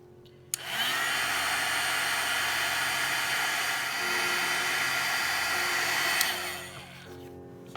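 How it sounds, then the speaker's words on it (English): A heat embossing gun switches on and blows hot air in a loud, steady, close whoosh with a high whine for several seconds, then cuts off with a click. "Then we can bring in our embossing gun."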